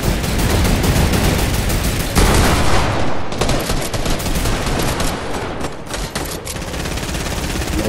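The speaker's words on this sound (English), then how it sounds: "I trick shot somebody with a shotgun!" Fortnite shotgun blasts in a loud, dense barrage of gunfire, shots overlapping in quick succession through a hectic battle.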